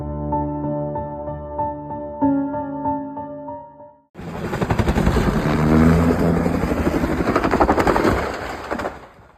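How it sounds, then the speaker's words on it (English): A Bell 206L1 helicopter in flight, its rotor producing a loud, rapid, steady chopping thud close by, preceded by a tonal musical passage before the rotor noise suddenly takes over. "A Bell 206L1 helicopter lost control moments later."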